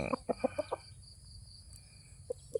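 A nine-month-old chicken gives a quick run of five or six close, distinct clucks, then falls quiet before two more isolated clucks near the end, over a low steady background hum.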